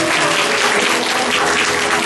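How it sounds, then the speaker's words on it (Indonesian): A church congregation claps together during a worship service, a loud, continuous roar of hands with faint tonal music underneath. "Tepuk tangan bagi Allah."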